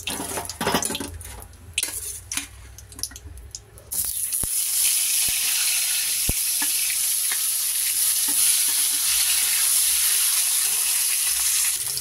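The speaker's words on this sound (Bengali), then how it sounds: "আলুটাও একটুখানি ভেজে নেব।" Potatoes fry in hot oil in a pan after eggs, a loud, continuous hiss and sizzle that swells partway through, with a few sharp clinks of utensils and no talking.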